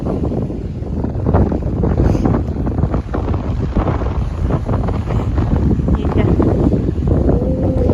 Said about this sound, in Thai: เสียงลมแรงหน่อย